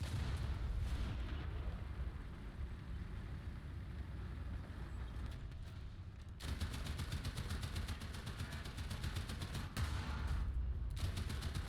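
M-51 tank cannon fire in the video game War Thunder: a heavy, rumbling battle soundscape with loud booming shots, an abrupt shift partway through, engine drone underneath, no talk.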